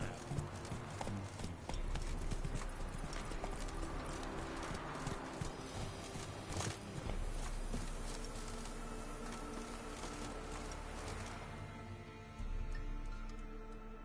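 Hoofbeats of the horse Roach galloping in The Witcher 3, a steady rapid clip-clop over game music and ambience, with a voice briefly audible.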